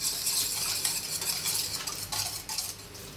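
Beef and pepper being stirred for Filipino bistek, a steady scraping and clattering of utensil against pan that continues throughout with a faint sizzle underneath, fairly loud and close.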